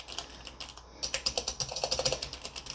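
Keys clatter on a homebrew Tandy 1000 HX computer keyboard: a few light taps, then a fast, even burst of close, crisp keystrokes for about two seconds, with no voices.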